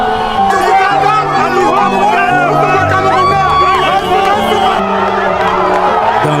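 Dense crowd fills the streets of Yaoundé at a giant victory parade for Cameroon's Indomitable Lions, winners of the 2017 Africa Cup of Nations: steady loud babble with scattered whoops and cheers, continuous throughout.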